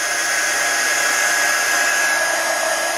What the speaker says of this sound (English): I'm being careful to try to not point this down at my work surface, so I don't blow all that embossing powder around